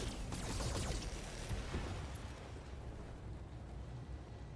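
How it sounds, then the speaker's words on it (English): Mech weapons fire in the game Battletech as a dense, rumbling barrage of blasts and booms, loudest at the start and then settling into a steady roar of explosions. "Firing everything I've got."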